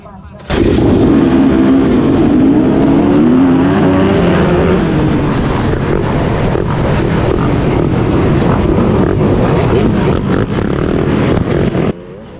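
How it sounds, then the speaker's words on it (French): A loud roar of many motorcycle engines revving together as a pack takes off at a cross-country race start, continuous and close, with wind buffeting throughout. "toutes les motos qui sont devant nous vont partir par série"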